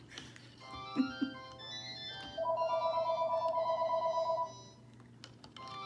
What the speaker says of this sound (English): We're gonna ignore the phone.